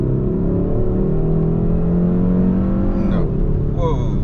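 A 2022 Hyundai Sonata N Line accelerating hard in Sport Plus mode, heard from inside the cabin: loud, steady engine drone with a rising tone, then a brief gear-shift dip and a quick higher-pitched climb.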